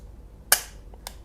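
A handgun test-fired inside a cloth bag gives one sharp, close bang, followed about half a second later by a fainter metallic click.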